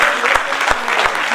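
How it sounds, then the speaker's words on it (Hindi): An audience at a Hindi comic poetry gathering claps loudly and closely, a dense burst of applause with a few sharp individual claps standing out throughout. "ये आपकी तालियां बता रही हैं"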